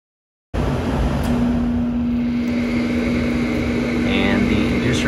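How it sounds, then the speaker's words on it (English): Replacement furnace inducer motor and fan starting up and then running at a steady, fairly quiet hum with a constant whir and a faint tonal drone, with nothing else over it. "And the inducer motor is on, the fan is spinning, and that's a lot quieter than the old one."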